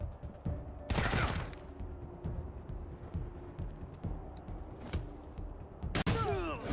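Gunfire rings out in the video game Wasteland 3 as a few sharp, loud bursts punctuate a steady rumbling combat backdrop, with scattered fainter clicks and impacts between them.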